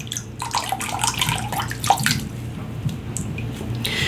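A natural-bristle shaving brush is held under a running tap, water splashing steadily for about four seconds with a few brief louder spatters and no talking.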